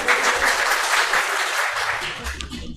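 Congregation applauding a seminarian at a Catholic investiture ceremony for candidate priests, a thick burst of clapping that gradually eases as a voice begins to talk near the end.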